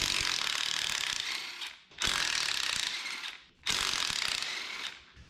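Ratchet unbolting parts while an S-10 truck is stripped down, three long bursts of rapid close clicking separated by short pauses.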